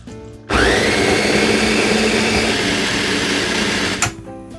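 A blender grinding shallots, garlic, large red chilies, small red chilies and ginger with a little water: a loud, steady motor whir that runs for about three and a half seconds and then cuts off.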